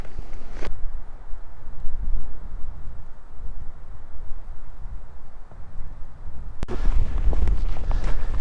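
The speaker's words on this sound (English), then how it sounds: "It's getting a bit windy" Gusty wind buffets the microphone in a rough, low roar on the Simonside Hills in Northumberland National Park, rising and falling, with a sharp burst near the end.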